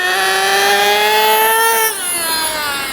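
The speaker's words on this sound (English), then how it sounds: "So now you can see the engine starts revving up higher." A JQ Products THERTR nitro engine during break-in, revving in a loud, steady whine that climbs in pitch and then drops sharply near the end before settling again.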